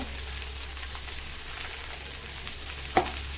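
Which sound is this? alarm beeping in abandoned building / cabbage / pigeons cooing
cabbage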